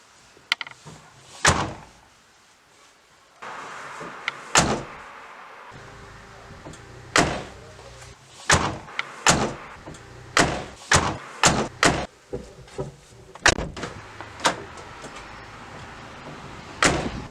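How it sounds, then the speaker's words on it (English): Repeated sharp rattling knocks from a Renault Megane door, irregular and fairly loud, coming in quick bursts over a faint background hum. "Our door rattle is the most annoying thing about this Megane."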